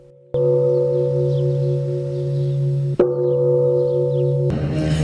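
A ceremonial bell at a marine corps commemoration is struck once with a loud, sustained ringing tone, then struck again midway, the ring carrying on until a sudden burst of noise cuts in.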